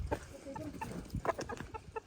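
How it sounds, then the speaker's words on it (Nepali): Local village chickens in East Rukum cluck in short, scattered bursts, moderately near with farmyard background; no talking. "लोकल कुखुराहरू,"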